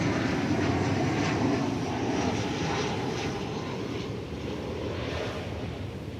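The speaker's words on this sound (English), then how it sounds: "we check out American Flight 2599 coming in from beautiful downtown Burbank" American Airlines flight 2599 from Burbank comes in to land at DFW Airport, its jet engine roar a steady, broad rumble that holds loud throughout with wind buffeting the microphone.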